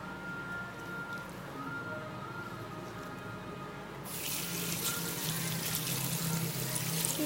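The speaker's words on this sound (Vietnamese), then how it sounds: "Khi rửa cọ các bạn xả thẳng nước vào cọ như thế này" Tap water runs steadily from a faucet, then pours directly onto a facial cleansing brush, becoming a louder, fuller splash for the last few seconds.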